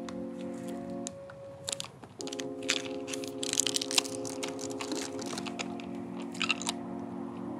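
Traditional Japanese candy from a SAKURACO subscription box is chewed up close, with crisp irregular crunches and clicks over a steady electronic hum.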